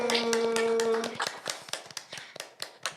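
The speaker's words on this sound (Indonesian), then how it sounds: "kasih tepuk tangan dulu" Scattered hand claps from a small audience at a community talent event, sharp irregular taps following a brief sustained tone, fairly close and moderately loud.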